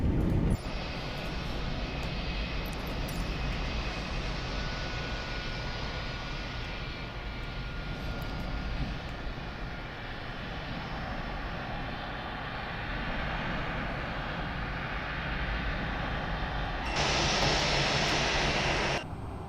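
Steady roar of an Airbus A321 jet engine running in a flight simulator cockpit, a continuous loud whine and rumble that swells slightly near the end.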